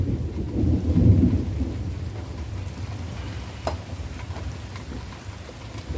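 Steady outdoor rain with a deep rumble of thunder swelling early on, then a continuous wash of rainfall with scattered drips and taps, loud and close with no voices.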